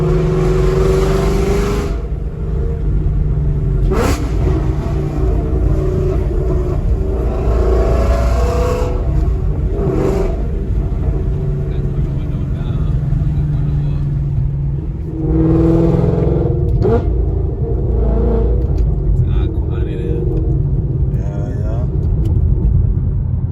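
Heard from inside the cabin, a 2015 Ford Mustang GT with over 500 horsepower rumbles continuously, its engine and exhaust swelling with a few revs, while people talk over the deep drone.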